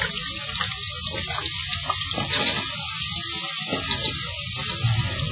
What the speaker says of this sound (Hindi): अब इसी घी में हमने करीब 200 ग्राम कटा हुआ प्याज शामिल करना है।